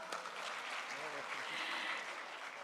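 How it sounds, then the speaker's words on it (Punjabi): An audience claps at a talk, a brief, fairly faint burst of applause with a voice speaking underneath. "ਭਰਪੂਰ ਤਾਲੀਆਂ"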